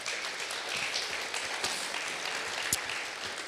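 Audience applause inside a church, a full and steady round of clapping at moderate distance with a few sharper individual claps standing out.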